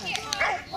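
A dog at an agility event gives short sharp yips and barks, close and loud, with people chatting over and around it.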